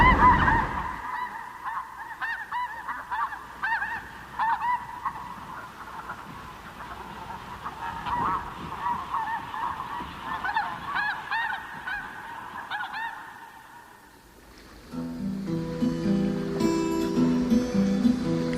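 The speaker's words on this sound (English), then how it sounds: "the thousands of migratory snow geese feasting on the sandbanks" A large flock of migratory snow geese on river sandbanks honks continuously at a distance, many overlapping calls forming a steady clamor, with a low rumble joining near the end.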